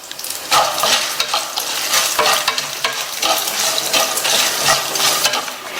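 Dried chillies, garlic and lentils sauté with a small gooseberry-sized piece of tamarind in a pan, a close, continuous sizzle with rhythmic scraping stirs of a spoon against the pan.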